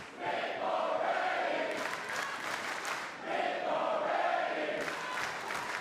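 A live crowd at a Sydney professional wrestling show cheers and shouts in rolling waves during an opening match, loud and steady with swelling peaks throughout.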